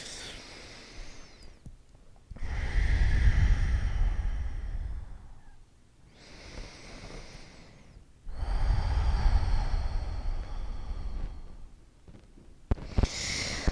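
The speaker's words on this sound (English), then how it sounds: "We'll take 3 long inhales and exhales." A person takes long, deep breaths during a yoga session. Two slow inhale-exhale cycles sound close and airy, each breath lasting several seconds with quiet gaps between them, and no speech.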